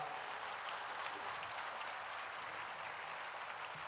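A large crowd applauding Prime Minister Modi at Swarved Mahamandir in Varanasi, dense even clapping that holds at a constant level throughout with no voices standing out.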